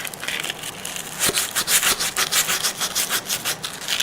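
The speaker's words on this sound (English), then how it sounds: "So to show you sanding this" Wood being sanded by hand along a repaired split in a solid-wood guitar body, a steady back-and-forth rasping that speeds into regular, close strokes after the first second.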